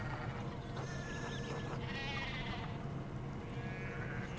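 Sheep bleat in the medieval adventure game Pentiment, several wavering calls over a steady dense background of ambient game sound, moderately loud with no talking.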